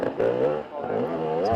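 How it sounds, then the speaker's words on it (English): An enduro motorcycle engine with knocked, skewed header pipes drones at rising and falling revs, with a harmonic tone that sounds rough and close. "The pipes are starting to sound a bit different, Daryl."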